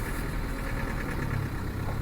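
A Spanish 110 car engine idles evenly and smoothly with a low, steady rumble, close by and moderately quiet, with no voices.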